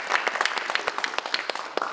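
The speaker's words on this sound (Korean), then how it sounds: "우리 이채희 의원님께 우리 감사의 박수 함께 좀 해드리는 걸로 시작하도록 하겠습니다" A small forum audience at a debate on revising the local autonomy law gives a short round of applause, and the individual claps are distinct and irregular, close and fairly sparse, with no voices over them.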